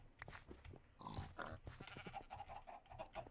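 Sheep in the Minecraft video game give a few faint, short bleats amid quiet in-game sounds, heard softly and at low volume.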